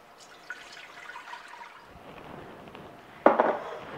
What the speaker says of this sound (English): pour it into my pot.